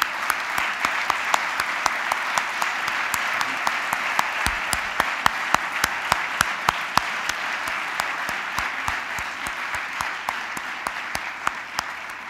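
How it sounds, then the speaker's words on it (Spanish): A sizeable audience claps steadily and evenly at a university doctoral investiture ceremony, where fifty new doctors receive their degrees. The dense applause continues unbroken for about twelve seconds, with sharp individual claps standing out from the wash. "lo primero que os solicitaría es un fuerte aplauso para vuestras familias"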